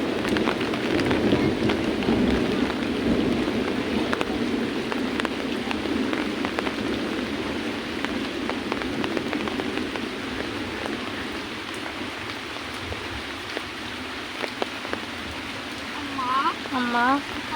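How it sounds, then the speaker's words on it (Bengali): Steady rain falls outdoors near a riverbank, a broad continuous wash of drops that holds at an even level throughout, with faint voices and a few brief sounds toward the end. "আল্লাহর রহমতে আমরা পানি বৃষ্টি পেয়ে গেছি"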